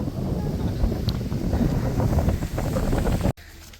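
Steady wind buffeting the microphone at the Ramakkalmedu hilltop viewpoint, a low roaring rumble, loud and continuous, cutting out abruptly near the end.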